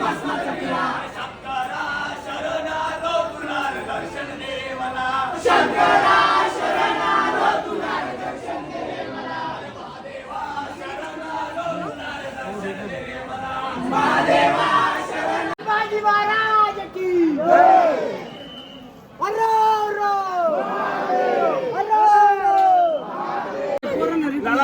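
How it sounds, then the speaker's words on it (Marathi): A dense crowd of devotees at a busy temple, with loud, continuous chatter and overlapping voices of adults and children, some raised shouts rising above the babble throughout. "कशी गर्दी"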